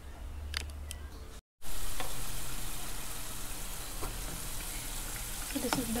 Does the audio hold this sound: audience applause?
no